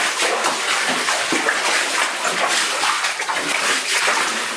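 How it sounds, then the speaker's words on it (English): Wading steps sloshing through water in a flooded mine tunnel with hard stone walls and submerged sleepers, a steady close splashing wash throughout with no talking. "Just so you're not watching endless trudging through water."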